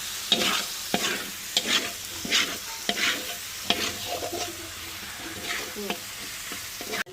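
Masala stir-fried in a pan, a steady close sizzle broken by repeated scraping strokes of the spatula, without any talk.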